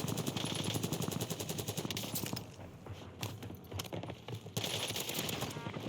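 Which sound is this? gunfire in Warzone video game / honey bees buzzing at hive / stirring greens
gunfire in Warzone video game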